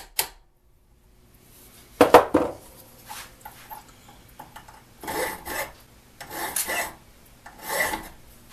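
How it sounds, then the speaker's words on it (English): Rasping strokes of a safe edge file on metal while assembling the ratchet of a Pexto 8014 brace, several separate scraping passes at irregular intervals after a sharp initial clink, close and fairly quiet with no talking. "This is a safe edge file."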